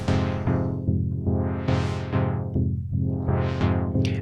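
Sustained dub chord from a Virus TI synthesizer with its filter cutoff lowered, played as a series of rhythmic stabs, rich and harmonic, its brightness sweeping up and down in slow waves over steady low tones.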